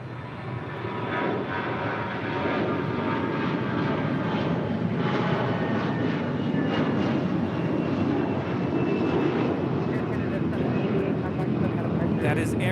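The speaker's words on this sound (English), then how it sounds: "That is Air Canada 788 departing to Toronto on an A321." Air Canada Airbus A321 jet taking off at LAX, a loud, steady engine roar that holds throughout with broadband rumble, heard close and continuous; faint talk sits underneath.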